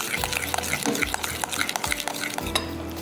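A banana and cream dessert mixture is stirred briskly, a spoon knocking and scraping rhythmically against the bowl, close and fairly loud throughout.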